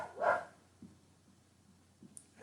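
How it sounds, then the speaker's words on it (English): A dog gives one sharp, fairly close bark near the start, followed by a few faint, brief yips or woofs in an otherwise quiet indoor room. "sorry about the dogs"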